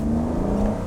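An Aston Martin DBS V12 engine running, a steady near droning hum with a held tone, brief and unbroken with no voices over it.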